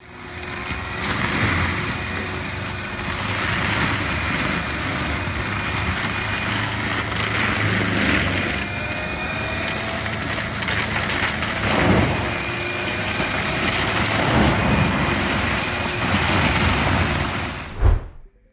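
A PT300 multi-purpose tracked machine working, a steady mid-pitched engine drone with faint clanks and shifts, running continuously and fairly close before stopping abruptly.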